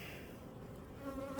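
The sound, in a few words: honeybees buzzing after nuc move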